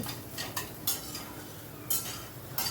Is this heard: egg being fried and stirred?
yes